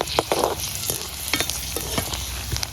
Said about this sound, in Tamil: 30 கிராம் கச்சானையும் போட்டு பொரிச்செடுக்க போகிறோம்.